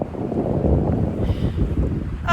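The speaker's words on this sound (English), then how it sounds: "it's windy, and it's been snowing all day" Strong wind from a snowstorm on the Appalachian Trail buffets the microphone in steady, rumbling gusts, loud and continuous with no voices.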